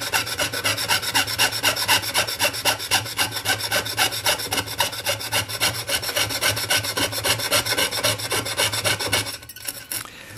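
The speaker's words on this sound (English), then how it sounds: "begin sawing in the other direction" A hand saw rasps through wood in fast, even back-and-forth strokes while a pierced spatula is being cut, the sound close and continuous before stopping just short of the end.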